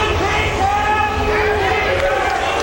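Crowd at a Miami Dolphins NFL draft party reacting to the team's pick of Ted Ginn Jr.: a loud, sustained mass of voices with shouting and murmuring, steady throughout.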